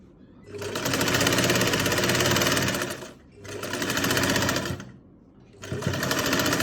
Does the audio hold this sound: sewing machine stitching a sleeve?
yes